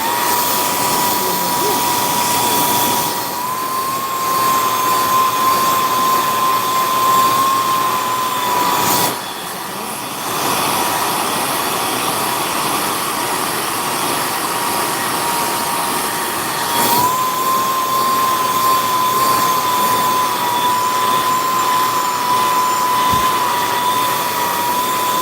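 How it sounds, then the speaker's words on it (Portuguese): A hair dryer drying watercolor paint on fabric blows with a continuous loud whooshing hum, briefly switching off and back on, with a steady whine running through it. "eu estou secando com secador agora"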